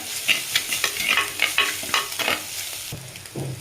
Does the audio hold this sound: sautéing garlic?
yes